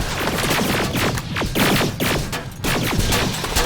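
Sustained suppressive gunfire in the shooter game Terminator: Resistance, a loud, continuous barrage of overlapping shots with bursts and brief dips, dense and close throughout.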